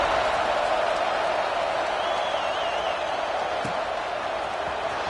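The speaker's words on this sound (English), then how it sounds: "this crowd is buzzing after that last score" A football stadium crowd at a Gators versus Vols game keeps up a dense, continuous roar of cheering before kickoff, loud and even throughout with no distinct voices standing out.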